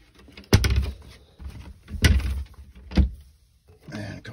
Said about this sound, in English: The lights kick on when you open the closets.